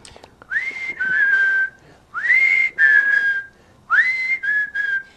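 Someone uses a whistle to imitate the mountain chickadee's 'cheeseburger' call: three clear phrases, each a quick rising note followed by two steadier, slightly lower tones, separated by short pauses, close and alone with no talking.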